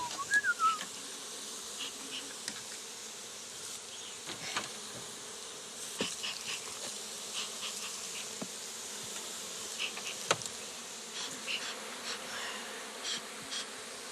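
Honeybees buzzing around an open beehive on Réunion Island, a steady close swarm hum with individual bees droning past the microphone, no talk.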